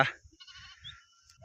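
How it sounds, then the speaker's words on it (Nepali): A flock of sheep bleats on the move downhill during a seasonal shift of the sheep fold in the hills, with a few wavering calls close by and no talking over them. "ल हाम्रो भेडा गोठाला देख्न सक्नुहुन्छ।"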